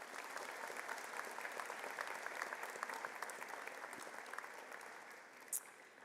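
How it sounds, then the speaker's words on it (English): A large convocation audience applauds steadily in a hall, a dense, even wash of clapping heard from a distance that holds for several seconds before easing slightly. "Please join me in a round of applause to show our appreciation."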